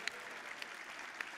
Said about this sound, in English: let's give another round of applause to our 2 players in the previous game